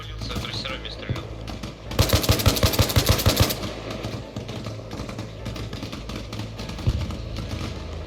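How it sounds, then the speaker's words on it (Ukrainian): A rapid burst of automatic gunfire in the video game ARMA Reforger lasts about a second and a half amid background noise and faint voices, followed by a single later shot. "то десь звідти стріляють"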